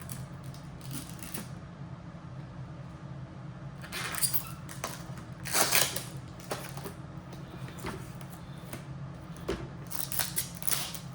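Packaging for a Shark Matrix robot vacuum being unwrapped by hand, faint crinkling and rustling with a few sharper tearing bursts of plastic and cardboard, close and quiet over a low steady room hum.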